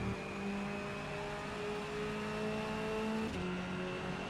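BTCC touring car engine in rFactor 2, a steady whining drone held at fairly constant revs and fairly quiet, with a brief pitch drop near the end as it shifts or lifts.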